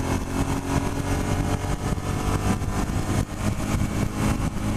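Suzuki SV650 motorcycle engine pulling steadily in third gear at around 5,000 RPM and 45 mph, a loud continuous mid-pitched drone with wind rush, close and constant throughout with no talk.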